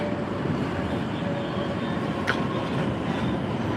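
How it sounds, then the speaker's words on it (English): An MBTA Red Line subway train pulling into a station: a steady loud rolling rumble of wheels and motors with a faint high squeal, continuous throughout and without talking. "I think this train's gonna make a quick stop because there's another train right behind it."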